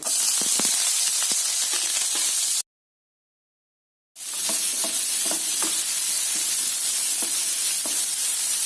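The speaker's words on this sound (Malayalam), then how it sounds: "എണ്ണ വെച്ച് കടുക് കുട്ടി സവോള" Mustard seeds and sliced onion fry in hot oil for a potato stir fry, giving a steady close sizzle with scattered pops and spoon scrapes. The sound cuts out to silence midway, then the frying resumes at the same level.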